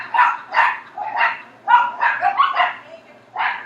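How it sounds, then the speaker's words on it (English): Several dogs bark in a rapid, overlapping series of yaps and woofs, close by and steady, with short pauses between the bursts. "I apologize for the dogs barking if you can hear them"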